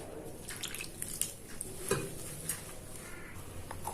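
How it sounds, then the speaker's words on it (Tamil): Ragi pakoda dough is worked by hand in a bowl as water is poured in little by little, giving soft, steady stirring and squishing with faint clinks and drips, no talking. "இந்த மாதிரி பண்ணிட்டு கொஞ்சம் கொஞ்சமாக தண்ணி ஊற்ற ஆரம்பிங்க."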